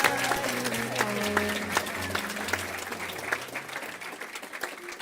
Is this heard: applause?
yes